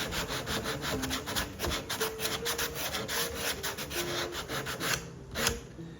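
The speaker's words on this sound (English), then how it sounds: "now what I'm going to do is sand the back of the neck some more" Sanding the back of the wooden neck of a jazz guitar kit by hand: rapid, rhythmic back-and-forth rasping strokes, close and fairly loud, continuing steadily without talk.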